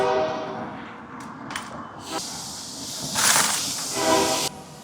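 A passing train sounds its horn in repeated long, loud blasts over a rumbling wheel-and-car roar, heard outdoors near a self-serve car wash, with no talking.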